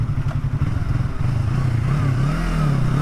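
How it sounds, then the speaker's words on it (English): A motorcycle engine revs during a rev-matched downshift on a city street, a close, loud droning note that dips and then climbs and wavers as the throttle is blipped. "practicing this rev match is downshifting"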